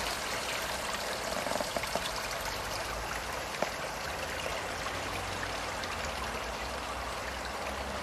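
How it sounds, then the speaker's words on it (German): A small brook at a field target shooting range in the Pfalz flows steadily, a continuous broadband rush and gurgle of water that stays even and close throughout with no voices. "Wie sich so ein kleiner Fluss verändert."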